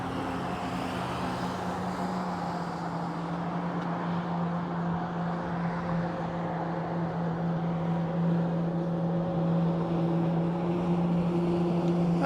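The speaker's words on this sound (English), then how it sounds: "he's got him a couple of fast Mercury outboards on there" Twin Mercury outboard engines on a speedboat drone steadily at idle, a low throbbing hum with wind rumbling against the microphone throughout.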